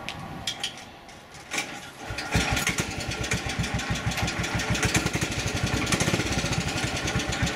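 A golf cart engine with a too-tight belt cranks softly and then catches, settling into a loud, steady chugging run that continues close by to the end, with no talking.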